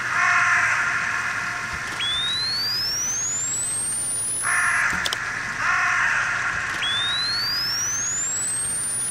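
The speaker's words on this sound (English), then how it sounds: "Hi, Crow." Crow caws in a horror video game, two harsh calls standing out over a steady eerie ambient drone, with rising synthetic chirp tones sweeping upward behind them.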